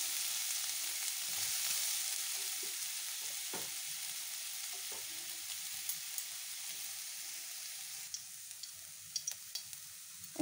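Grated carrot frying in oil in a wok, a soft, steady hiss of sizzling with occasional light pops and ticks, fairly quiet and close, with no talking.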